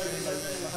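Cordless hair clippers at a barbershop in Turkey buzz steadily and close during a skin fade, a brief continuous electric hum with a voice talking over it.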